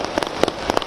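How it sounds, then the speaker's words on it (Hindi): Fireworks burst over Dev Diwali celebrations in Kashi, with several sharp, crackling pops in quick succession against a steady outdoor rumble. "देखिए तस्वीरें, ये आतिशबाजी"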